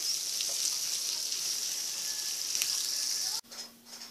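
Huitlacoche with epazote cooks in a pan, giving a steady, close sizzle with a bright hiss and scattered pops that stops abruptly near the end.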